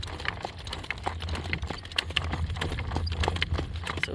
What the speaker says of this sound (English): Nice solid footsteps on this horse.